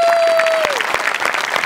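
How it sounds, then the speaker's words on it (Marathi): A studio audience at a Marathi comedy show breaks into loud, sustained applause, heard close and filling the whole moment. "एकदा जोरदार टाळ्या होऊन जाऊ दे"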